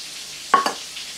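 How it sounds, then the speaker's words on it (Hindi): Shrimp frying in a pan over medium to high flame, a faint background sizzle with two quick louder scraping stirs close by. "मैं इन्हें यहाँ पर बना रही हूँ on medium to high flame पर। फ्राई हो रहे हैं"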